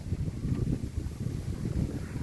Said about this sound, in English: it's still pretty windy at times